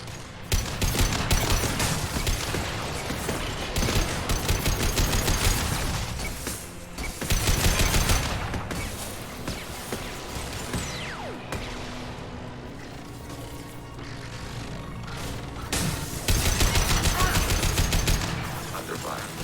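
Sustained turret gunfire in Mass Effect 2 Legendary Edition, heavy automatic bursts with explosive thuds and mechanical clatter, loud and continuous with brief lulls, amid game sounds and occasional voices.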